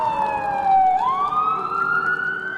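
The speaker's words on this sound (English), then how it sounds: "Every year since 1975, sirens break through the Appalachian air." A loud emergency siren wails steadily nearby in Appalachia, its pitch sliding down and then rising again, with a vehicle engine rumbling underneath.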